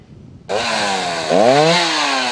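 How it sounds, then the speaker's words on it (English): Chainsaws cut through storm debris after tornado damage in a neighbourhood, a loud close buzzing engine that kicks in abruptly and then rises in pitch as it revs under load, with no talk. "The buzz of chainsaws echoed through parts of Stedman this afternoon, clearing away debris from storms"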